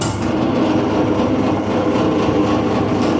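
A tempeh chip slicing machine runs with a steady, loud mechanical drone and rattling hum, continuous and unbroken throughout with no talking.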